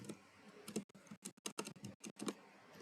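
Quiet typing on a computer keyboard, a quick irregular run of soft key clicks with brief pauses between them, heard close up and alone.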